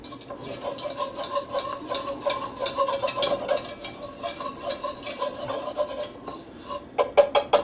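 Flour mixture for creamed chipped beef being stirred in a pan, a steady scraping and rubbing rhythm of the utensil against the pan, fairly close and quiet, with no talking.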